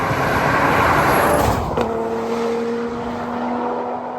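Engine of a VW Tiguan fitted with a turbocharged 3.6-litre R36 engine, a loud steady roar that settles into a sustained drone after a brief shift in tone, with no talking.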